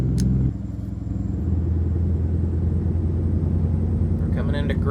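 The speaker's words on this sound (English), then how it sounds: "I'm actually gonna have to brake the truck." Truck in American Truck Simulator, a deep engine rumble holding steady as the rig slows for braking on curvy roads, with someone talking over the low drone throughout.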